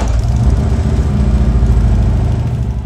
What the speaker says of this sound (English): a very common request is the adjustment of idle speed of Harley Davidson